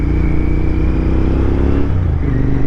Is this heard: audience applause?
no